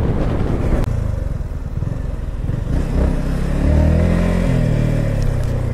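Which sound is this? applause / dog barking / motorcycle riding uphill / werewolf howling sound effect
motorcycle riding uphill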